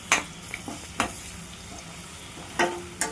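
Ginger garlic paste and turmeric are stirred into frying onions in a pan for chicken curry, with a few sharp scraping spoon strokes spaced apart over a faint, steady background sizzle.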